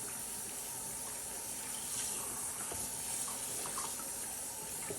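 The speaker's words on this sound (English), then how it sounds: "gotta rinse this real good" Water runs steadily from a kitchen tap as stewed pork is rinsed, a soft continuous splashing rush at low volume.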